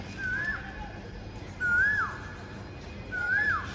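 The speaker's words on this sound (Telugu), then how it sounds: "ఒకసారి కోయిల్ చూడండి కూ కూ అంటుంది" Three clear rising-and-falling bird calls of an Asian koel, evenly spaced about every one and a half seconds, over a low outdoor hum.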